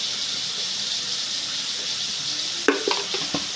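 Tomatoes fry in a pan for tomato chutney (pachadi), giving a steady, close hiss of sizzling that holds throughout. A few sharp utensil clinks and stirring knocks come in over the last second, with no talk.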